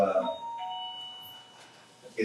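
A doorbell chimes with clear sustained tones ringing out in a meeting room, heard faintly between bursts of speech at the start and end.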